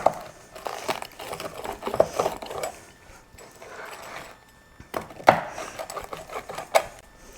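A knife cuts through a gluten-free vegan frozen cheese pizza, giving a series of close, irregular crunchy scrapes and sawing strokes in bursts, with short pauses between cuts and no talk.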